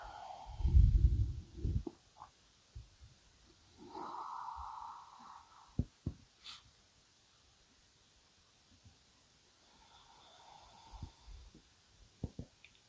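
Deep breathing during gentle yoga stretching: a loud close snorting inhale at the start, then softer, fainter breaths and small rustles spread through quiet pauses.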